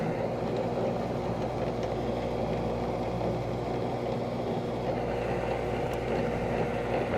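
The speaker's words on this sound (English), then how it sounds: "All right, turn this grinder on." An electric meat grinder runs while processing deer meat for sausage, giving a steady, continuous low motor hum that stays even and unbroken throughout.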